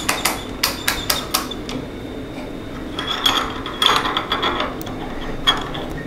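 Mainspring winder turning to coil a watch mainspring, a series of crisp ratcheting clicks and small metallic scrapes close up, in uneven bursts without speech.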